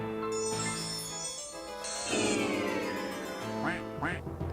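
A duck quacking in the PC game King's Quest II - Romancing The Stones, several nasal quacks over electronic tones and jingling game music, close and clear with no talking.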